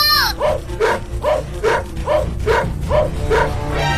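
A cartoon dog barks hungrily in a repeated quick series of about eight sharp, loud, close yelps spaced at an even rhythm.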